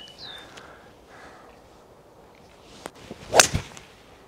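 A golf club strikes a ball on a fairway, one sharp crisp impact near the end of a quiet outdoor stretch, with a faint swish just after.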